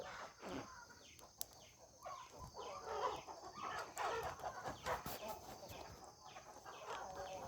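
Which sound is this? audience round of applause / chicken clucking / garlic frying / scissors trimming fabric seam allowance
chicken clucking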